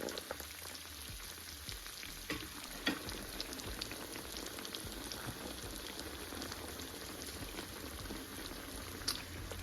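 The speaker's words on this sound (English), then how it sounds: "I'm gonna cook the rest of the salmon patties. I'm cooking them 4 minutes per side" Salmon patties fry in a pan with a steady, soft sizzle and crackle, close but fairly quiet, with a couple of faint pops and no talking.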